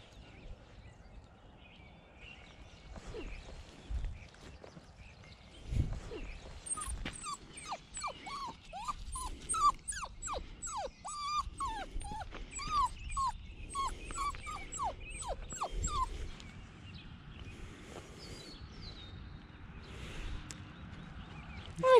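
A female dog whimpers and yips in a long run of thin, high, repeated whines over about twenty seconds, close to the listener, with a few faint soft words spoken now and then.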